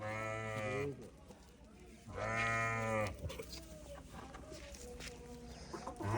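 A young goat kid, about three months old, bleats twice in long wavering cries at a farm while other livestock sounds and people talking continue in the background.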